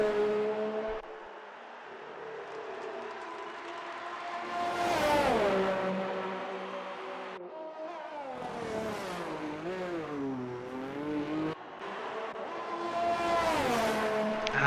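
Formula 1 cars in F1 2019 racing at the Austrian round, high-pitched engines rising and falling in pitch as cars accelerate, shift and sweep past one after another, loud and continuous with no talk.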